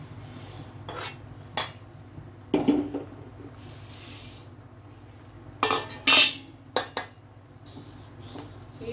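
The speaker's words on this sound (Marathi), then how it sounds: "आता आपण उडदाची डाळ भाजून घेऊया" Urad dal dry-roasting in a pan, heard as scattered scraping and metallic clinks of a spoon stirring the lentils against the pan, in short irregular bursts over a low background hum.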